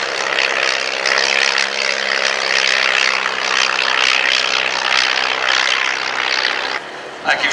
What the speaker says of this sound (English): Chris Upstep in the Blackburn B-2 has now taken the lead over Pete Coscorin.